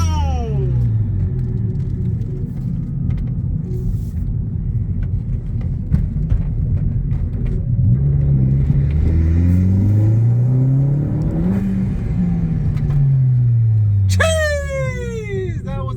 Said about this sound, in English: And look, as he's spooling the turbo,